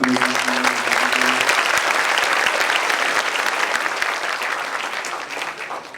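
At a Kelas Inspirasi education event, an audience applauds school principals with sustained, dense clapping from a large crowd. It is strong throughout and eases slightly toward the end, with a brief low hum at the start.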